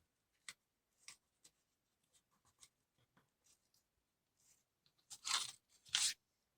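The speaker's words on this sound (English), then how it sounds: "I'm going to fold in the side edges." Paper for an origami advent wreath is folded and creased in quiet, scattered crinkles and taps, with a few louder rustling creases near the end.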